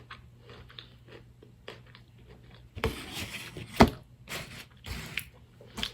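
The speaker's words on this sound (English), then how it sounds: "so I got some lovely carrots with hummus" Raw carrots dipped in hummus are bitten and chewed close up, with sharp crunchy snaps and softer wet chewing in irregular bursts against a quiet room.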